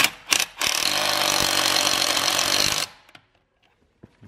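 An SR-023 impact wrench hammers a car wheel bolt tight in one loud, rapid rattling burst of about two seconds, followed by a few faint clicks and near silence.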